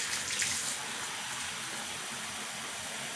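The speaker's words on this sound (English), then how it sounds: "my sink hot with hot water" Hot water runs from a tap into a bathroom sink, a steady moderate hiss and gush of filling water with a brief splashier burst at the start, no talking.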